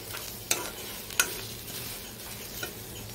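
Ingredients for a chutney fry quietly in a pan with a soft, steady sizzle, broken by a few sharp spatula scrapes and taps against the pan.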